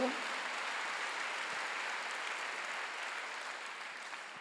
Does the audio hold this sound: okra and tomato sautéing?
no